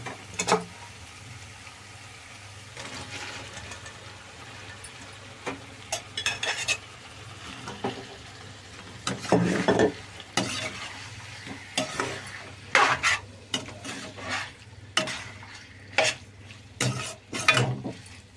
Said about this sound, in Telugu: ఉడికించి పెట్టుకున్న బంగాళదుంప ముక్కలు వేసేద్దాం